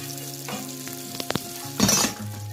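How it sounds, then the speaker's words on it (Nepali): Onion fries in a pan for a Nepali sweet corn curry, with a soft ongoing sizzle, a few light clicks of a stirring spoon and a louder burst of sizzling as the pieces are moved, close and fairly quiet. "अब यो प्याजलाई चाहिँ हल्का ब्राउन नहुन्जेल हामी भुट्छौँ"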